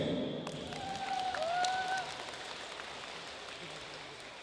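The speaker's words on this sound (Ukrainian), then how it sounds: "Ваші оплески" Audience at the opening parade of a gymnastics championship applauding, a steady patter of clapping with a few whistle-like tones over it, fairly faint and distant, easing off toward the end.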